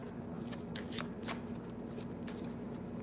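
A deck of tarot cards shuffled by hand in a quiet room: a few crisp riffling bursts spaced irregularly over a few seconds, close and fairly soft, with a faint steady hum underneath.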